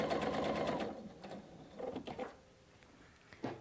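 A sewing machine runs in a fast, steady burst while stitching quilt trapezoid units, then stops and gives a few short mechanical clicks and stitches before one last brief whir.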